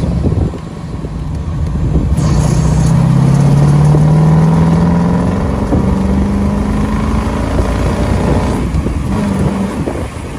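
A 1957 Corvette engine pulls hard while driving, its loud, close exhaust note rising in pitch through a gear, easing, then climbing again over wind and road roar.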